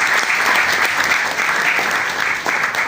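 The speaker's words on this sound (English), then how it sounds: "Please, a round of applause for everyone on the team." A large audience at a live awards-style event breaks into sustained applause, with a dense, even wash of clapping filling the space loudly and steadily from start to finish.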